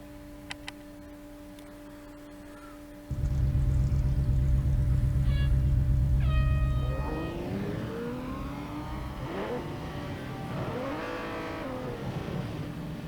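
Engine of a Lamborghini race car in a racing video game, a loud sustained drone that swells sharply then shifts into rising and falling revs as the car accelerates, with faint ticking early on and no talk.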